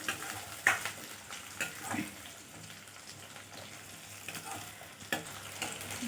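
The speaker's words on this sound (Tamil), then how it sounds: "ஒரு நாலு பல் பூண்டு போட்டு நல்லா கொஞ்ச நேரம் வதக்கிக்கணும்" Quiet sizzling of four garlic cloves sautéing in a pan with occasional stirring clinks and scrapes, steady frying underneath, close by and without talking.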